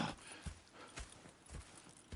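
Horse hooves clip-clop at a steady walking rhythm in Red Dead Redemption 2, a series of fairly close, evenly spaced knocks heard on their own over a faint outdoor ambience.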